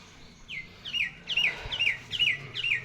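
Small birds chirping in a repeated series of bright, rising calls while being fed outdoors alongside pigeons, about six call bursts spaced roughly half a second apart, moderately near over a soft background hum.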